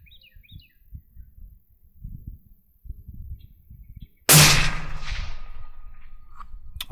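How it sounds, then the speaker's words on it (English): A single sharp rifle gunshot fired while zeroing a Nocpix MATE Ultra S60R thermal clip-on scope in an open field, a loud crack with a long fading tail after quiet outdoor ambience and faint bird chirps. "So we're going to take our first shot now and see where our impact is."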